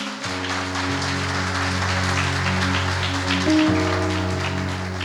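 A church congregation applauding during a sermon, with a sustained organ or keyboard chord ringing underneath; the clapping forms a steady, rain-like wash that swells slightly near the end.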